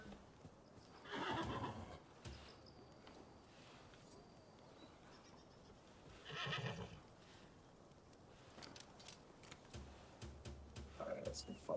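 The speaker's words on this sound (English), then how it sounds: "horse is summoned by your call." A summoned horse in a video game whinnies twice and trots with clip-clop hooves, faint under a soft game background, with voices talking quietly over parts of it.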